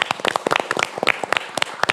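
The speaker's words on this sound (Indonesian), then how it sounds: "Boleh beri tepuk tangan paling meriah." Scattered claps ring out with sharp, irregular bursts as the audience at a ministerial event greets Coordinating Minister Muhaimin Iskandar. The clapping is fairly loud but sparse, more a handful of hands than a full ovation.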